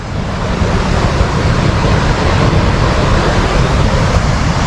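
Flowing water at Savitri dam near Poladpur makes a loud, dense, unbroken rush close to the microphone, broadband and steady like surf, with some wind buffeting mixed in.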